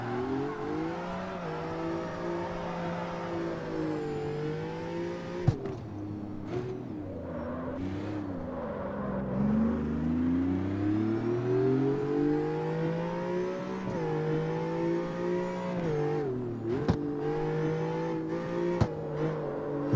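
A BMW race car in the CarX Street driving game, fitted with a sequential gearbox, revs hard and steadily under acceleration, its engine note climbing and dipping through gear shifts with brief sharp clicks, loud and close throughout.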